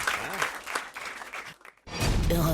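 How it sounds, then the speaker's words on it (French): A radio studio audience applauds in a short burst, mixed with a voice at first, then a brief dip and a louder swell of clapping at the end. "On vous remercie et on vous applaudit."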